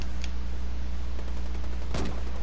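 Gunfire in the video game Ghost Wars: two short, sharp bursts, one early and a louder one near the end, over a steady low background hum.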